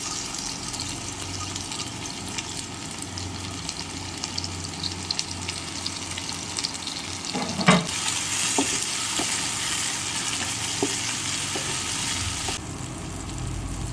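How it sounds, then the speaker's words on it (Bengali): Onions and chopped tomato fry in a pan with a steady, fairly quiet sizzle, with a few clinks and stirring scrapes partway through, and no talking. "পেঁয়াজটাকে একটু লাল লাল করে ভেজে নেব। টমেটো কুচি দিয়ে দিচ্ছি।"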